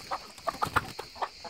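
Several chickens cluck in short, quick bursts nearby, a soft irregular series of clucks with a faint background hum.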